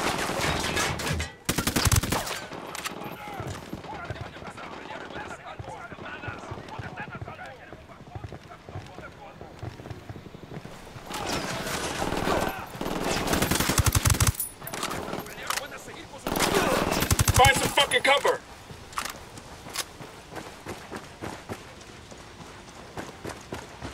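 Gunfire in the video game Ghost Recon Wildlands comes in several loud, dense bursts of rapid shots, separated by quieter stretches of game ambience and movement.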